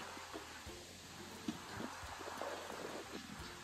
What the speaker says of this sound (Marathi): आता अचानक धो धो पाऊस यायला लागला.